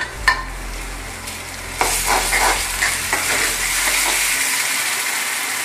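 Ginger-garlic paste drops onto onions frying in oil, setting off a loud, steady sizzle that swells after a soft start, with occasional stirring scrapes and no voices.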